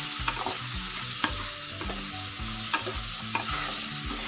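Cumin and turmeric powder roasting in hot oil for a home-style vegetarian sabzi, with a steady close sizzle and a spoon scraping the pan in a regular stirring rhythm, about four or five strokes, no talking.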